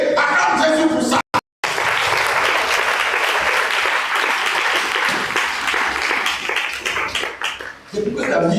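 A church congregation applauds loudly and steadily at a French-language fasting service gathering, with one brief drop to silence before the clapping resumes and fades near the end.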